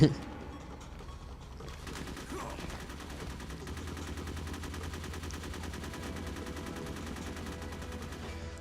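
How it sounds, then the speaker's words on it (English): Gunfire from the Metal Gear Solid video game, a steady rattle of rapid shots running throughout over a low rumbling game soundtrack, loud and close. "Why exactly is he shooting at him?"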